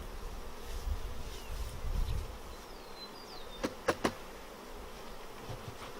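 Honeybees buzzing around open hive frames during queen rearing, a faint, continuous low hum of many insects with a few brief sharp knocks partway through.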